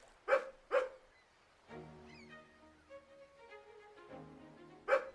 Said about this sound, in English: I heard a bark.